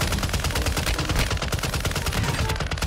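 Dense, rapid gunfire fills a chaotic Warzone firefight, with loud overlapping shots and bursts in a steady barrage.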